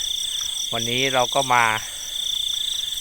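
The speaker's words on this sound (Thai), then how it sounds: "เสียงจิ้งหรีดร้องเต็มทุ่งนะฮะ" Crickets chirp in a rice field, a constant high shrill trill that runs steadily throughout while someone speaks briefly in the middle.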